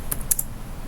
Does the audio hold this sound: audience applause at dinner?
no